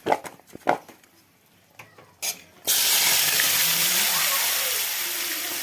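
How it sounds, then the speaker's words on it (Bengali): Pieces of hog plum drop into hot oil and set off a loud, sudden sizzle that stays strong and slowly fades, after a few light clinks and taps. "এখানে আমড়াটা দিয়ে সুন্দর করে এটাকে কষে নিব, 4-5 মিনিট ধরে কষবো"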